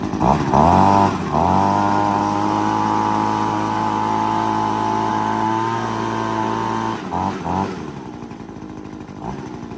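A handheld leaf blower engine revs up loudly and close, holding a sustained high-pitched drone for several seconds before dropping back with a few short blips.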